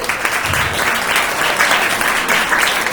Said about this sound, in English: Can we give our candidates another round of applause?